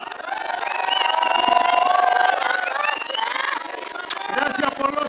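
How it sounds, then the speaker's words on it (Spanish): Crowd cheering and shouting at a samba school performance on an outdoor park stage in Tacuarembó, Uruguay: a loud, continuous mass of voices with whistle-like calls that swells and then eases slightly toward the end. "Gracias por los aplausos."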